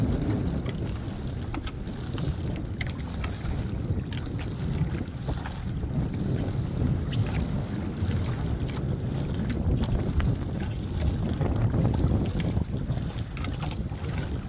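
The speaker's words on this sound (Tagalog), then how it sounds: "Lumakas na yung hangin." Strong wind roars steadily across the microphone on a drifting boat at sea, a dense low buffeting rush mixed with water splashing, with no pauses.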